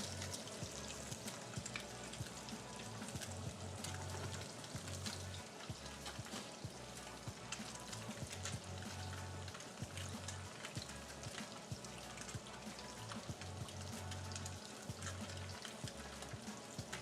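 Fish searing in a pan with butter and oil, a continuous crackling sizzle held at a steady, fairly quiet level with a low hum underneath.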